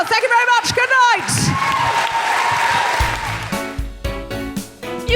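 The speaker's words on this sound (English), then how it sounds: "Give yourselves a big round of applause." A live audience at a podcast recording breaks into loud, dense applause and cheering, with a voice speaking early on and music starting toward the end.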